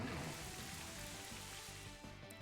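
Rain from the Rain Dance move in a competitive Pokemon doubles battle, a soft continuous patter of falling drops, faint and even across the whole stretch with no voices over it.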